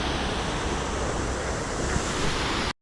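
Steady, dense roar of falling water at the Upper Duden Waterfall in Antalya, loud and close, continuous broadband rush with no voices, cutting off abruptly at the end.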